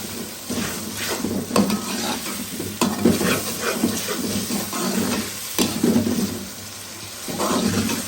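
Tomatoes dropped into a hot pan of meat and spinach, with a continuous close sizzle and frying hiss plus bursts of stirring scrapes from a utensil against the pan.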